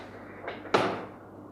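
A wooden storage drawer on a rubber wood jewelry display is opened or shut, heard as a soft slide followed by a sharper knock, close and fairly quiet.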